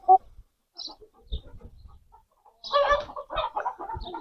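An Aseel fighting rooster makes a few short, scattered clucks and soft throaty calls up close, with a louder cluster of clucking toward the end and quiet gaps between.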